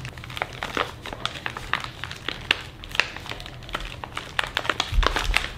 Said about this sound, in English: let's try to get this thing open